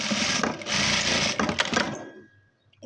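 A sewing machine stitches a strip onto a blouse in a steady, fast rattling run that stops abruptly, leaving near silence with a faint click at the end.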